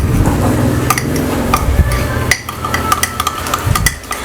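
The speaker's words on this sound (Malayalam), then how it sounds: "ആദ്യം സ്പൂൺ വെച്ചിട്ട് ഒന്ന് മിക്സ് ചെയ്തെടുക്കാം." A spoon stirs butter into mug cake batter inside a mug, scraping steadily with repeated bright clinks against the sides, close and fairly loud.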